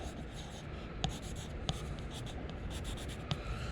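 Pencil writing a name on the back of a wooden picture frame: a soft, steady scratching hiss broken by a few sharp little taps, quiet and close, with no talking.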